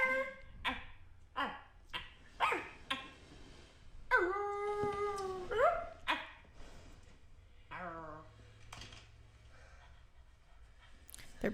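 Dogs with fangs, collars and leashes let out a series of short yelping howls followed by one long drawn-out wavering howl and a few softer whining cries, close by.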